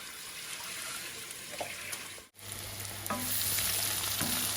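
Cubed red potatoes fry in a pan with cumin seeds, hissing in a loud, continuous close-up sizzle with stirring clatter; the sound cuts out for a split second midway, then returns.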